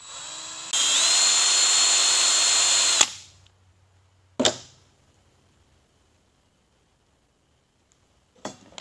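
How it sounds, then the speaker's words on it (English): A drill bores out an emulsion tube in a Holley carburetor metering block, one steady whine of about two seconds, followed by two short, sharp bursts of drilling with quiet gaps between. "Drill it out."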